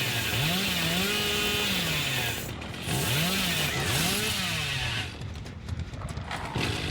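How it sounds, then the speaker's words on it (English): The killer's chainsaw in the video game Dead by Daylight revs and drones loudly and continuously, joined by wavering whinny-like cries and a brief dip in the middle. "I wonder if the survivors are constantly hearing this freaking chainsaw as I stroll across the map at breakneck speeds."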